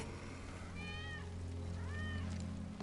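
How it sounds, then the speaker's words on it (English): A cat meows twice in Final Fantasy VII Remake, two clear rising-and-falling calls about a second apart over a steady low game ambience hum. "That's Wedge's cat."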